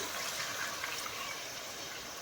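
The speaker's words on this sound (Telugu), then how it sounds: "కొంత కలుపుకున్న వాటర్ పోస్తున్నామండి" Mixed water is poured into a pan of chappala pulusu fish curry, a steady broadband rush and splash of liquid running continuously for a couple of seconds, close and fairly loud, with no speech.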